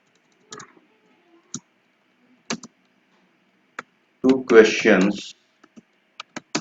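Sparse, isolated clicks of typing on a computer keyboard, a few keystrokes spaced out in a quiet room, with a short burst of a person talking partway through.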